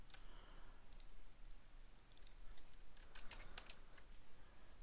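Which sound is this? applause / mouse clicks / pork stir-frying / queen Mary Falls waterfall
mouse clicks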